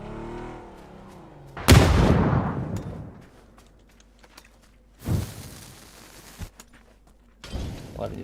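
A grenade blast in PUBG hits as a single loud, sharp burst that trails off, followed by fainter thuds and crackles further away in an otherwise quiet scene.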